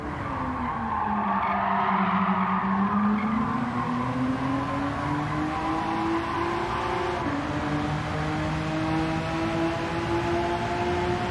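A Honda NSX race car in Gran Turismo 7 runs flat out on the Daytona oval, its engine a loud, sustained high whine that dips and climbs slowly with gear and speed, alone and continuous.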